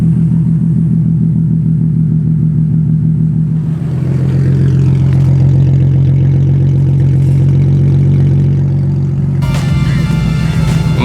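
A white and red car fitted with an aftermarket Tomei Ti titanium exhaust rumbles loudly up close, its steady idle shifting as the revs rise and fall, with a brief rattle near the end.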